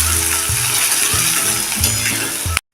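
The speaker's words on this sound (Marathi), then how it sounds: "कांदा चांगला मऊ पडेपर्यंत परतून घ्या" Finely chopped onion frying in hot oil on a medium flame makes a loud, close, continuous sizzle, with a spatula scraping the pan at regular intervals, ending abruptly.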